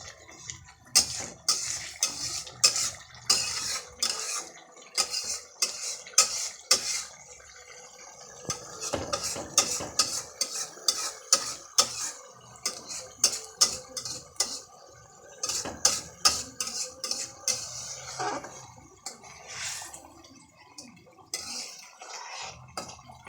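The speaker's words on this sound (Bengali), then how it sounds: "একটু পরে পরে মশলাগুলো নাড়া দিয়ে দিতে হবে যাতে আপনার তলাটা ধরে না যায়" Spoon repeatedly scraping and clanking against a metal pot while beef masala (kosha) is stirred, a close, irregular run of sharp metallic knocks and scrapes with quieter pauses in between.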